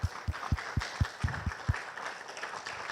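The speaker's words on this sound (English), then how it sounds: "I want everyone to give our staff a round of applause for their incredible work" An audience at an art gallery annual meeting applauding the staff, a handful of distinct claps at first, then softer scattered applause that thins out, moderately quiet in a large room.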